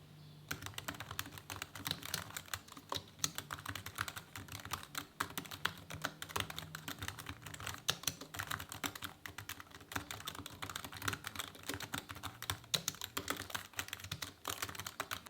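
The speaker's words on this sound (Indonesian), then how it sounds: "Yuk, kita coba dengerin dulu seperti apa bunyi typing di keyboard ini." Steady typing on a Satechi Slim X1 low-profile keyboard, a continuous run of quick, light key clicks at close range with no voices.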